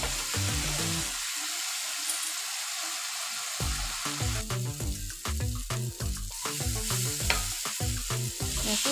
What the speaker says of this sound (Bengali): হালকা অল্প জল দিয়েছিলাম, মশলাগুলো ভালোভাবে ফ্রাই করে নেব মশলাটাকে।